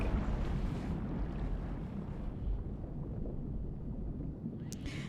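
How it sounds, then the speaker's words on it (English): A constant rushing of water, like a strong current or flood, fills the scene from Scarlet Hollow with a dense, steady low roar that holds unbroken throughout, close and enveloping, with no voices. "Your ears are filled with the sound of a rushing current."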